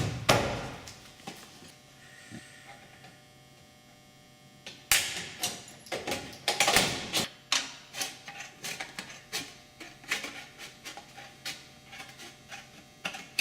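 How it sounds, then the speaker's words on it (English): Light metallic taps of a hammer on steel shingles being seated together, a few scattered knocks at first, then a quicker run of sharp taps, close and fairly quiet over a faint hum. "be able to tap on the end just to make sure that the two shingles are seated together very well"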